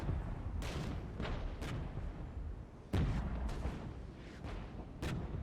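Tank guns firing in a Cold War real-time strategy game, with T-80U and Leopard 2A4 tanks in battle: several heavy booming shots spaced a second or two apart over a steady rumbling battlefield din, with no talk.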